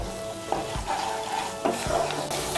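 Masala with cashew paste and yogurt stir-fried in a pan for a Bengali potol do pyaza, a steady close sizzle broken by several scraping stirs of the spatula.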